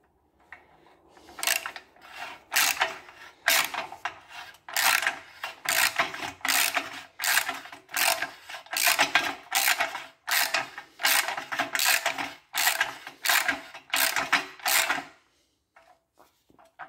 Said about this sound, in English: just have to make sure it's all centered when I get those bolts in.